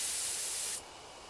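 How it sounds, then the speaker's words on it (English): In the video game Death Mark, a sprayer aimed at a bee hive releases a steady, hissing spray of drug for under a second before cutting off to a faint background hiss. "Take careful aim and spray the drug."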